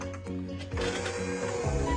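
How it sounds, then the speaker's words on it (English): An electric hand mixer whirs steadily while creaming sugar and butter in a bowl, a close mechanical drone with a slight shift in pitch partway through, no talk. "I'm gonna use my hand mixer."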